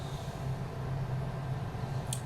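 An old air conditioner, about ten years in use, running steadily with a low constant hum and broadband whir, with no talk over it and a brief faint high tick near the end.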